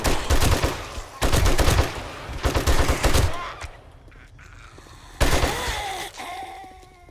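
Gunfire in the video game 7 Days to Die, rapid automatic bursts of shots in three loud clusters separated by pauses, with groaning zombie-like voices in the quieter gaps.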